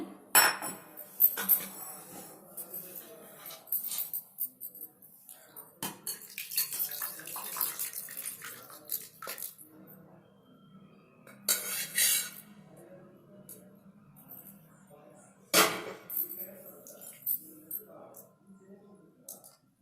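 Mutton liver curry is ladled into bowls in a home kitchen, with scattered clinks and taps of metal utensils against vessels, sharp bursts between quieter stretches, while a person talks throughout.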